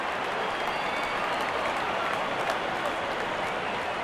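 A cricket crowd at an India versus Sri Lanka test match applauds a six with steady, dense clapping and crowd noise that holds evenly throughout.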